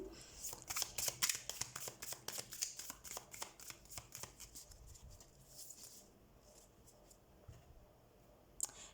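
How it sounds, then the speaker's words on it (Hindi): Tarot cards shuffled by hand, a fast run of crisp riffling flicks close up that slows into scattered softer taps and slides, with one sharp click near the end. "तो सबसे पहले हम कार्ड शफल कर लेते हैं लियो साइन।"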